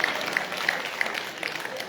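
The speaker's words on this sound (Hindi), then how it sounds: "क्या तालियां बजी है" Scattered audience clapping at a live Hindi comedic poetry recital in Rudrapur, a short, light burst of claps with a few sharper hits, heard from within the crowd.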